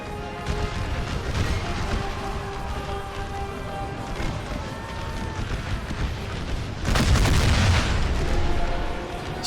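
Cannon and rifle fire from an American Civil War strategy game set in the Wilderness battle: continuous dense crackle of musketry with booming artillery, swelling louder near the end, with no talk.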